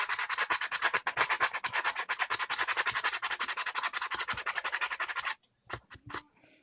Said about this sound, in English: I'm going to take some rough grit sandpaper. I'm going to start sanding